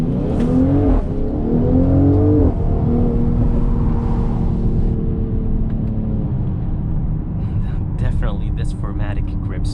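Engine of a 2021 Mercedes-Benz GLC 43 AMG 4MATIC driving through a corner, a loud close rumble with rising then steady tones and some tyre and road noise, while a person talks over it.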